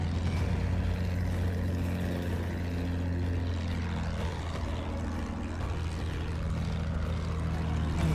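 A propeller warplane in the Battlefield 1 video game drones steadily and loudly from start to finish, a deep continuous engine hum with no talk over it.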